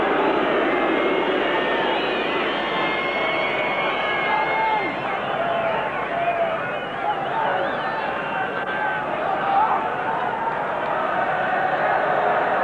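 A 50,000-strong football crowd at an Ireland v Spain World Cup qualifier roars continuously, a dense, steady wash of cheering and babble filling the stadium for the whole stretch.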